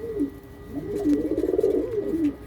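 A breeding pigeon, a parent bird, gives one close rolling coo, rising and falling over about two seconds against quiet background noise.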